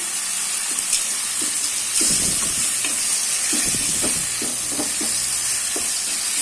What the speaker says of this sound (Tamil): இந்த தக்காளி நமக்கு மேட்சாகிற அளவுக்கு நல்லா வதங்கட்டும்